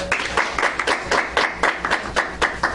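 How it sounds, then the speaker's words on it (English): Audience applause for a woman who has just given her testimony at a morning gathering, a thin group of claps with distinct, fairly regular strikes standing out, close and unaccompanied by speech. "let's give her a round of applause"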